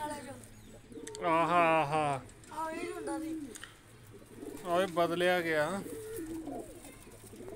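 Pigeons coo while being fed chickpeas, and their low rolling calls are mixed with someone talking in two bursts of speech.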